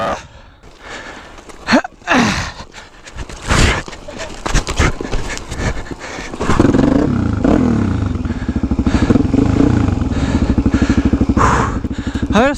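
A motorcycle that is getting hard to restart coughs and clatters through several attempts among voices and handling noises, then catches and runs with a steady, pulsing engine note that grows louder toward the end.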